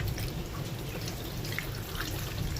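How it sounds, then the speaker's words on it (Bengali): Water pours steadily into a pressure cooker holding three large mangoes, a close, continuous splashing trickle with no talk. "এবার দিয়ে দিচ্ছি জল"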